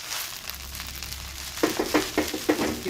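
Thick coriander stalks fry in oil for a spice paste, making a low hiss that turns into a run of crackling sizzle bursts as stirring starts partway through.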